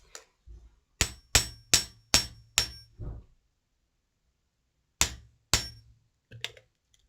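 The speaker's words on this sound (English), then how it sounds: "You can just hammer to your liking" Metal hammer strikes sharp taps on wire for a wire-wrapped pendant resting on a block, a quick run of five evenly spaced blows, a pause, then a few more taps, close and clear with no talk.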